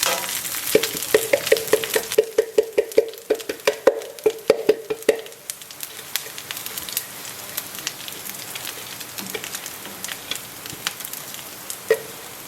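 Peanuts fry in a pan with a crackling sizzle and dense rapid popping and stirring clicks, busiest early and then settling into a softer steady fry.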